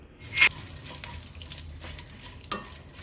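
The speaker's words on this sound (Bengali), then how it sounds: "পাঁচ ফোড়ন শুকনো লঙ্কা তেজপাতা গোটা জিরে ফোড়ন দিয়ে দিচ্ছি" Oil crackles and sizzles softly as whole spices (panch phoron, dried red chillies, bay leaves, cumin seeds) fry, with a couple of sharp pops and a stir or clink.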